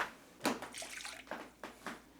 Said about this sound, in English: I'm going to add a 1/2 cup of water as well.